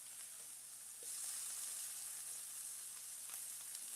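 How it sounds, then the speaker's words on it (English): Meat searing in a pan, a soft, continuous sizzle and hiss close by, fairly quiet and unbroken. "Ooh, these are starting to sear already."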